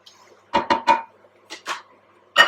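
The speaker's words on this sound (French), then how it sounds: "là on va mélanger aussi un petit peu pour faire tremper les haricots verts" Metal spoon knocking against a cooking pot while stirring green beans for a pumpkin and squash curry, three quick clinks, a pause, two more, then a final sharp clink, close and clear with no talk.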